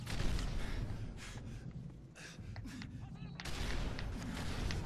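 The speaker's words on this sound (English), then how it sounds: "I took some heavy fire from that machine gunner up there" Dense, continuous machine gun fire and explosions from the video game Call of Duty: Modern Warfare 3, a loud rumbling barrage with a brief lull midway before it surges again.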